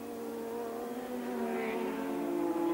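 Alboretto's Ferrari Formula One car entering the pits at the 1987 Spanish Grand Prix, a distant engine whine that rises gradually and grows a little louder, with a faint second engine briefly passing midway.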